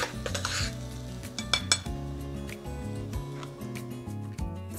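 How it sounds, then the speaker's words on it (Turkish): Red pepper flakes and dried mint stirred into melted butter in a pan, quick spoon clinks and scrapes at the start, then quieter stirring under soft background music. "1 tatlı kaşığı kırmızı pul biber, 1 tatlı kaşığı da nane ilave edip karıştırıyorum"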